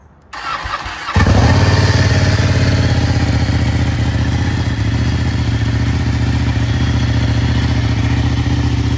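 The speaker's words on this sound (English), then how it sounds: "All right, so first start of the bike." A Ducati 899 Panigale motorcycle engine cranks briefly, then catches and settles into a loud, steady, close idle that runs for several seconds with no talk.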